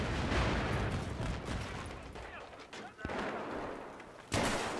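Gunfire and rocket-launcher blasts from a Battlefield 3 multiplayer match on PS3 rumble and crack in a dense, chaotic barrage, with a player talking over the action.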